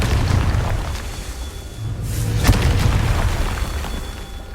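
A Confringo fire spell explodes in the video game Hogwarts Legacy, a single deep boom with a sharp crack at its peak, rising out of a steady low rumble of game ambience and fading back into it.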